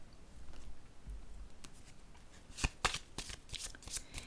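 Tarot cards being shuffled and laid down on a table, a soft steady riffle followed by a run of crisp close snaps and slaps, no talking.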